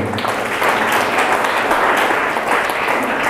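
University engineering students applaud together in a lecture hall, a steady, dense burst of clapping that holds at an even level throughout.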